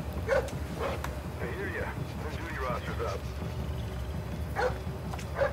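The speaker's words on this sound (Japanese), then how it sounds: "この壁の先にワンちゃんの声を感じるぜ" Dog in Splinter Cell: Blacklist barking and yipping from behind a wall, a few short muffled yelps spaced apart while someone speaks over it.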